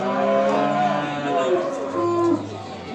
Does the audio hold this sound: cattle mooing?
yes